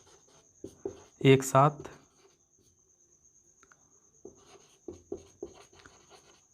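Pen scratching on paper during a Hindi-medium class 10 NCERT maths lesson on LCM, in light intermittent strokes under a teacher's voice, with a steady faint high hum behind.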